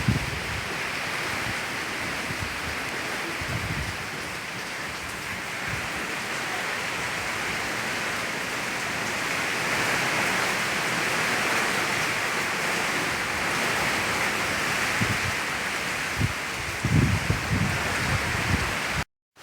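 Heavy rain and strong wind during a flood in Tahiti, a steady dense roar of downpour and gusts that continues throughout, with a few low thumps near the end.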